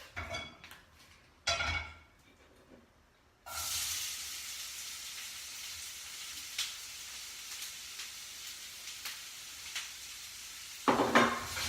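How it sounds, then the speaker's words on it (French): Oil heating in a pan for an onion tart sizzles with a steady hiss after a clatter of pan and utensil, with a brief louder burst of sizzling near the end. "j'entends l'huile qui chauffe"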